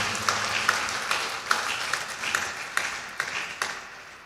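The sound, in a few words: round of applause congratulating the professor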